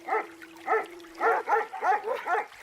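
A dog barks about seven times in a steady, sharp rhythm, close and loud, with no talking.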